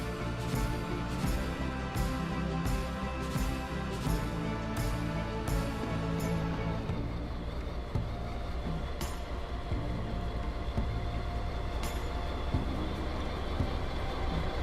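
Fully loaded coal train with dynamic brakes running in the Trainz railway simulator, a continuous low diesel rumble and hum that holds steady throughout, with faint rhythmic clicks early on.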